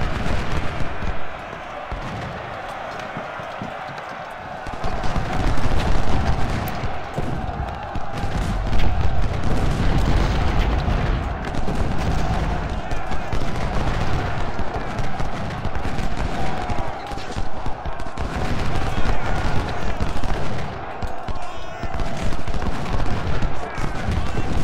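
Cannon and gunfire in the Civil War strategy game Ultimate General: Civil War, repeated booming blasts and crackling volleys over a dense battle din, with someone talking intermittently.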